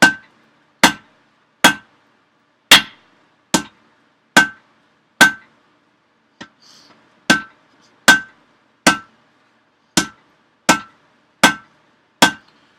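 Hammer blows ring on a Fisher anvil at a blacksmith forge, about sixteen sharp metallic strikes in a steady rhythm with a brief pause near the middle, loud and close with no talking.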